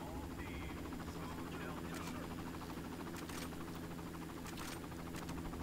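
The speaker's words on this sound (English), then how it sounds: "Now let's get up there and kill that helicopter." A helicopter in the video game Far Cry drones continuously with a buzzing, vibrating rotor throb, fairly faint and steady, while a voice talks over it.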